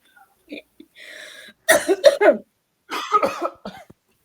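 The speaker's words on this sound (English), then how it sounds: "Oh, don't be coughing." Several harsh coughs in quick bursts, close and loud, with a short gap between two clusters and faint breathy sounds before.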